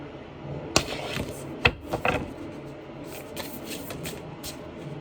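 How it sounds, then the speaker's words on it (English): Close papery riffles and soft slaps of a deck being shuffled, a few sharp snaps early then quieter rustling. "They said shuffle a different way"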